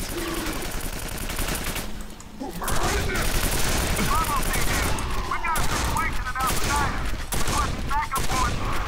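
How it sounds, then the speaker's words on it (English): Shotgun blasts in the first-person shooter Quake 4, a dense, loud barrage of gunfire with booming impacts running throughout, mixed with game effects and some voices. "The first shot from the shotgun is always the best shot."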